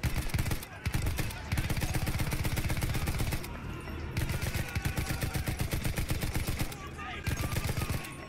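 Rapid, dense gunfire fills a chaotic multiplayer video game battle, continuous bursts of automatic weapons crackling close and loud with only brief pauses throughout.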